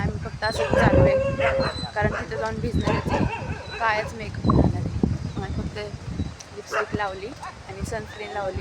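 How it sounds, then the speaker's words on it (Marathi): Several dogs bark and yip repeatedly on the way to a Konkan beach at Diveagar, fairly close and in irregular bursts, mixed with people talking over them. "बघा हे कुत्रे भुंकतात ते."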